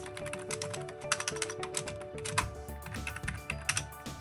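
Typing a mailing address on a computer keyboard while filling out an online kindergarten registration form: steady runs of close, light key clicks with a few brief pauses.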